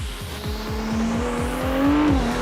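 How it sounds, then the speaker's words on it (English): A Ferrari 296 GTB sports car accelerates hard, its engine note climbing through quick, regular gear shifts. Each upshift drops the pitch before it rises again, loud and close, with no voices. "let's try to make an acceleration and listen to the sound of the 296 GTB"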